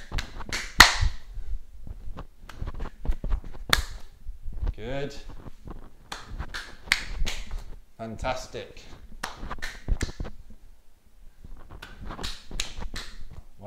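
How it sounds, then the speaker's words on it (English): Quick hand claps during an at-home tennis drill for secondary school students, sharp snaps repeating in short bursts between bounces, mixed with an instructor's encouraging speech. "Much faster hands now to clap in front and then behind."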